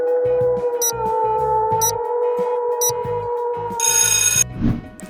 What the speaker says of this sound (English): Yes, a wolf.